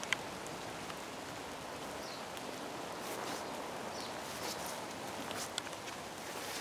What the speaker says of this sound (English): you can probably hear the rain on the leaves.